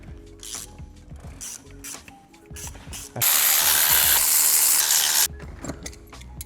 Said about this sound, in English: gonna remove the spark plugs like the other side